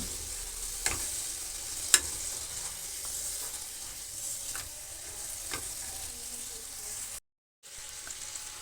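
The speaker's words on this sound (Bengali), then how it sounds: "আমি তেল গরম করে তার মধ্যে দিয়ে এটাকে এইভাবে ভেজে নেব" Fritters made without potato fry in hot oil with a steady, soft sizzle and hiss, punctuated by a few sharp crackles and a brief drop to silence near the end.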